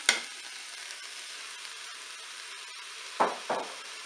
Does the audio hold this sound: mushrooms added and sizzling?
yes